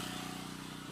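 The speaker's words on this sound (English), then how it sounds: "run the generator that's outside here very loudly" A generator runs outdoors with a steady, loud engine drone and regular low pulsing, continuous throughout with no talk.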